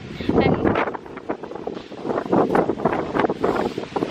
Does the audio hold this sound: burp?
no